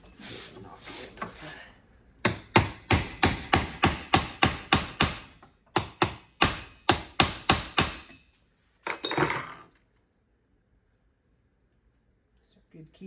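A hammer drives a punch to knock a pin into the yoke of a Polaris Sportsman ATV, striking in two fast rhythmic bursts of about a dozen close, loud metallic taps, then a brief scrape and quiet.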